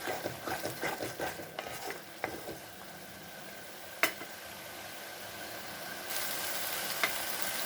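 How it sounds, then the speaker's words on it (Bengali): Spices for a bottle gourd fritter curry are stir-fried over a high flame, giving a steady close sizzle broken by rhythmic scraping and stirring strokes of a spatula against the pan, with one sharper clink partway through. "গ্যাসটা লো করা আছে, এখন হাই করে দেবো, দিয়ে ভালো করে কষিয়ে নেব"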